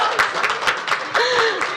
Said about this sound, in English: Round of applause if you love birds.